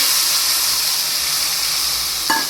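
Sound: chopped green onions added to hot oil with turmeric, sizzling

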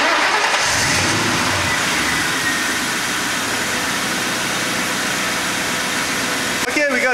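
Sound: car engine started and running for alternator test

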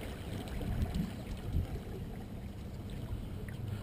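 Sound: Pro-Angler 14 kayak with 30lb thrust motor moving on water

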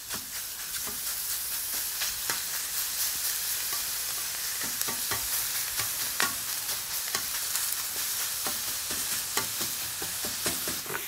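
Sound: minced meat sizzling on a hot griddle plate

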